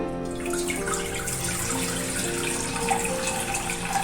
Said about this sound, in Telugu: ప్యాన్ పెట్టుకుని నీళ్ళు పోసుకున్నాం